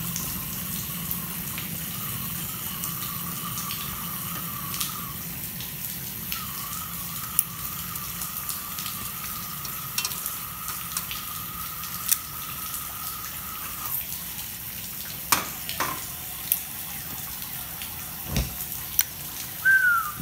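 A Coleman camp stove burner flames up with a steady roaring hiss, broken by occasional clicks and clanks of handling, and no one speaks.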